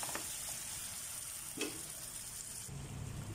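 Onion and tomato fry in a hot pan for anchovy sambal, giving a faint, steady sizzle with a couple of soft knocks and a low rumble toward the end.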